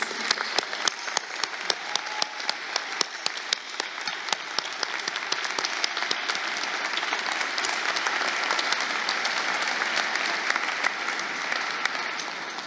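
Sustained applause from a large audience at a college awards ceremony, with dense, even clapping that holds steady and fills the hall for the full length.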